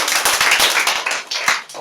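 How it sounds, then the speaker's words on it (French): A church congregation bursts into brisk applause for the women, many hands clapping at once in a dense, loud patter that thins slightly toward the end, without talking. "Applaudissez les sœurs."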